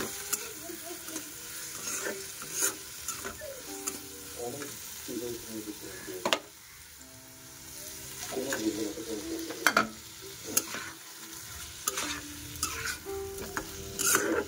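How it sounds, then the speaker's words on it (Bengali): Masala being stirred and fried in a pan with steady sizzling, broken by repeated scraping strokes of a spoon against the pan, close and fairly loud, with no talking. "মশলাটা কষে গেলে আর একটু নেড়ে চেড়ে এখন ডিমগুলো দিয়ে দিব"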